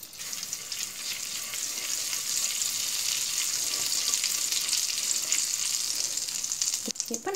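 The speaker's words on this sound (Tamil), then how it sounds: "இப்போ வெண்ணெய் உருகுனதும் நம்ம இதில் கஸ்தூரி மேத்தி லீவ் சேர்த்துக்கலாம்." Dried fenugreek leaves hiss in melted butter in a pan, a dense, even sizzle held close and loud throughout, with a few clicks near the end.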